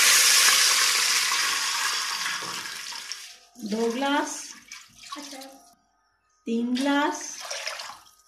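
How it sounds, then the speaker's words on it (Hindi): Water poured into a pot of hot oil with cumin seeds for dal chawal gives a loud, hissing sizzle for about three seconds. It then drops away as someone talks over quieter bubbling. "तो अब मैं इसमें पानी डाल देती हूँ"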